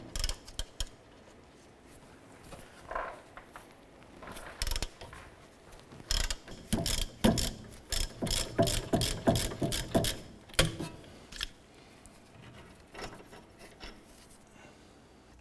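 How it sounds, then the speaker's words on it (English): A 17mm socket and ratchet loosening the lower strut bolt on a 2008-2012 Honda Accord, giving bursts of rapid clicking and ratcheting near at hand, with quiet pauses between strokes and no talk. "We're going to use our 17mm socket and ratchet to go ahead and loosen and remove our lower strut bolt here."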